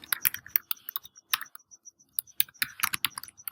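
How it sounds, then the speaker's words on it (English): Close-up typing on a computer keyboard while entering text in design software, irregular bursts of crisp key clicks with short pauses between, heard alone. "So I just simply type what I want."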